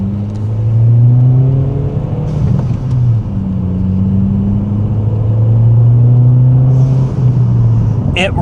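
A 2003 Dodge Neon SRT-4 engine droning and revving while driving along, a steady loud rumble with pitch rising and falling through gear changes, heard from inside the car.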